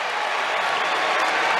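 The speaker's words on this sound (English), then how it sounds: "that's got some applause from Kyrgios and a thumbs up towards Tsitsipas" The Wimbledon crowd applauds after a point in the 2022 match between Nick Kyrgios and Stefanos Tsitsipas, a short, dense wash of clapping that holds steady and strong.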